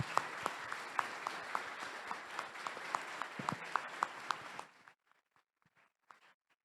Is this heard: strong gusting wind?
no